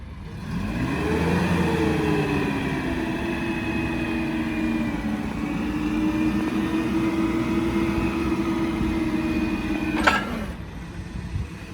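A Mitsubishi forklift with two extra hydraulic lines lifts its mast to full height, the engine rising in pitch and then holding a steady strained drone with a hydraulic whine, ending with a short sharp hiss.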